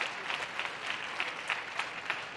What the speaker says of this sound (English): A fantastic rally there, appreciated by this Washington crowd.